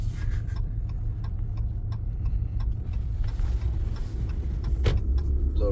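A car rolls slowly into a lot lined with heavy-duty dump trailers, its engine a steady low rumble with light ticking and rattling over the bumpy ground, and no talk.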